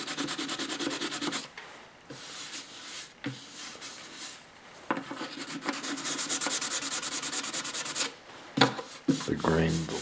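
Sandpaper of 400 grit rubs back and forth over wood in steady bursts, a close, dry scratching broken by short pauses and a few handling knocks near the end.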